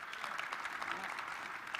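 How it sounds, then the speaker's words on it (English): Sports analytics conference crowd on a main stage claps hands in a soft, even patter of many overlapping claps, heard at some distance and fairly quiet throughout. "Clap your hands if you think he plays another NFL game."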